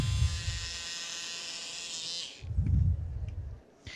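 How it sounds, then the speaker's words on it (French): Scissors snipping through a terry cloth towel, giving a steady rough buzzing rasp for about two seconds, a short pause, then a second cutting stretch of similar texture, close and fairly loud with no talk. "Je découpe avec mon ciseau."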